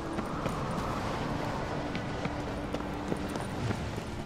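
Steady rhythmic hoofbeats of a galloping horse in The Witcher 3 over a constant background rumble, fairly close and moderately loud.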